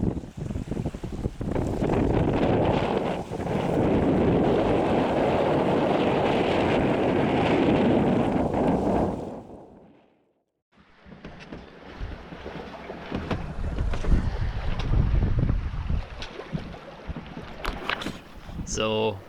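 Strong wind roars against the microphone while a sailboat under its jib moves through the water, a steady loud rush that drops out briefly before wind and water noise return, with voices talking.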